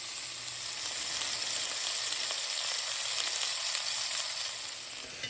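Small fish patties fry in a 10-inch stainless steel skillet with a steady, close sizzle. A constant crackling hiss runs without pause, and no one speaks.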